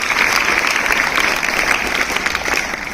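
A classroom of sixth-grade pupils applauds at a school commemoration event, dense loud clapping sustained evenly for the whole stretch, close and continuous with no voices.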